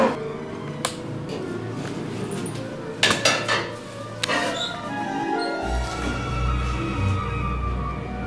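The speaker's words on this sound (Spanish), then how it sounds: "Termino de lavar los platos y voy." Dishes and cutlery clink and clatter in scattered knocks during washing up, with a steady low rumble joining partway through.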